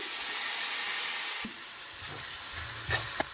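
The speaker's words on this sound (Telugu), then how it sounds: "అల్లం వెల్లుల్లి పేస్ట్ పచ్చివాసన పోయేదాకా ఫ్రై చేసుకోవాలి" Ginger garlic paste fries in a pan for prawn curry with a steady, close hiss and sizzle, easing slightly partway through as a few light utensil taps sound.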